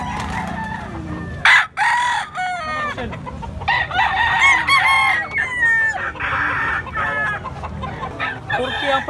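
Poultry at a busy public market cluck and crow loudly close by, repeated calls overlapping one another against a background murmur of people talking.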